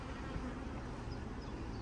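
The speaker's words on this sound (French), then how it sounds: "On a des abeilles partout." Honey bees swarm around an opened hive during an inspection, a steady dense buzzing hum filling the air at close range with no pauses.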